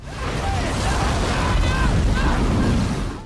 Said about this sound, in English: an explosion turns a tornado into a fire-nado